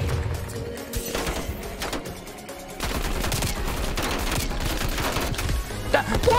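Rapid gunfire from Call of Duty: Black Ops Cold War multiplayer on PS5, dense bursts of shots crackling over a busy game mix, getting louder and steadier in the second half.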